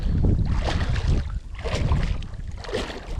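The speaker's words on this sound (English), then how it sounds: "So you can see I'm just paddling in like that" Kayak being paddled in toward a boat ramp at a creek preserve, with steady water swishing and broadband wind rush across the whole stretch, rising in strokes near the start, middle and end.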